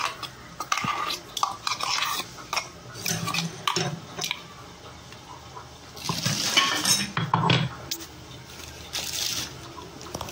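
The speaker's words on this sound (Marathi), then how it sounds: "आता हे खोबऱ्याचा मसाला त्यात ओतून घेते" Coconut masala is poured into a hot pot and stirred with a spoon, giving scraping, clinking and wet sloshing sounds in bursts, loudest in the middle of the stretch, with no talking.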